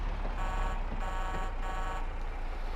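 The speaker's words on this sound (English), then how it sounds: "listen to the horn on this" A vehicle horn in a farming-style video game, sounding like a truck, blares in repeated tonal bursts of about half a second over a steady engine drone, with no talking.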